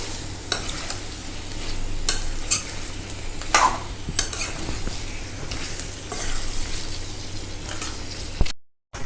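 A spoon stirs pieces of meat and papaya frying together in a pan, steady sizzle with scraping strokes and clinks against the metal repeating every second or so, alone without talk.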